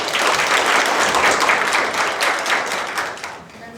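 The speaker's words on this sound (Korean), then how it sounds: "우리 해르고 학생들을 큰 박수로 맞아주시기 바랍니다" Audience applause greets high school students stepping onto the stage at a youth history research contest presentation, steady and dense clapping from a full hall that holds for several seconds and then thins out toward the end.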